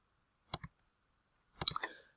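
Two short bursts of clicks from calculator keys being pressed, a quick pair of taps followed a second later by a tighter cluster of presses, close and fairly quiet with no talking.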